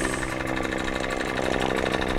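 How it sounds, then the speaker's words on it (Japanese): A spider mower's small petrol engine runs steadily after a recoil start with the choke closed, giving a continuous, loud, buzzing drone with no break. "チョークを閉じてリコイルを引いてエンジンをかけます。"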